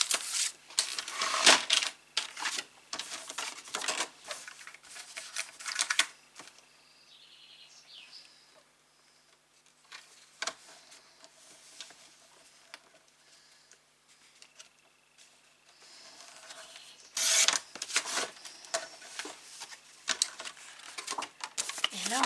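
Excess paper or card trimmed from a push-up waterfall craft, soft close snipping and crisp scraping bursts in uneven clusters separated by quieter stretches.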